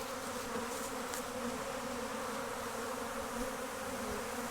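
A steady, continuous buzz of many honeybees from a swarm flying nearby, droning evenly without pause.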